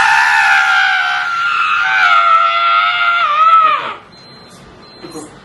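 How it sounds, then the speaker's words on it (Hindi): Long, loud, sustained scream from a person acting for a horror film shoot, wavering in pitch for about four seconds before breaking off into near silence. "चिल्लाओ।"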